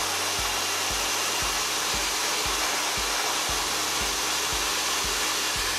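A hair blow dryer runs steadily and loud while drying short hair, a continuous broadband whoosh with a faint rhythmic ticking pulse underneath, with no talking.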